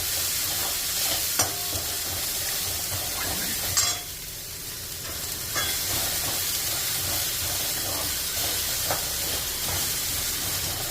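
Poha upma being stirred and fried with onions in a pan, a continuous close sizzle and hiss with scraping spoon strokes breaking through now and then.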